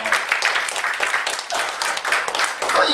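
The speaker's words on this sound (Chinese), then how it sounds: "非常好，给我们自己热烈掌声一下。" A meeting group applauding themselves, with brisk sustained clapping from many hands lasting a few seconds, close and even.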